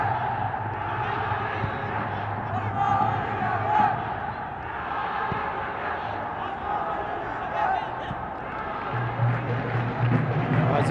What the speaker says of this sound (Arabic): اسمع هزيج الجماهير في مدرجات ملعب النجف